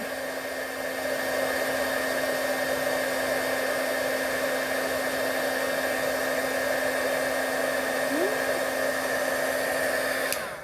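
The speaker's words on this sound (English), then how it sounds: "and I have the heat gun" A handheld heat gun blows hot air in a steady, even whoosh with a constant hum, running alone for about ten seconds before cutting off.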